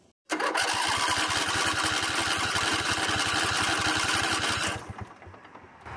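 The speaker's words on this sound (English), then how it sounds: "Engine turned over." A lawn tractor's small engine cranks and catches, then runs steadily with a fast, even chugging beat, loud and close, before the revs drop and it settles near the end.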